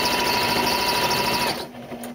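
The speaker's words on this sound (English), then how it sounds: "stitching from the top of the bag towards the bottom of the bag" A sewing machine stitches down a fabric gift bag in a fast, even whirring run that stops abruptly near the end.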